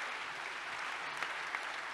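Quiet, distant applause from an audience at a business conference for Rama Yade, a brief, steady patter of clapping.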